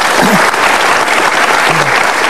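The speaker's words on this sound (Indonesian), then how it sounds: "Iya, boleh tepuk tangan." Dense, steady applause from a studio audience on an Indonesian television talk show, loud and continuous throughout with a brief voice-like tone rising faintly underneath.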